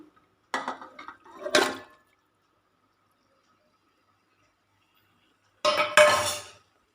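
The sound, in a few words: adding masala-coated chicken into a pressure cooker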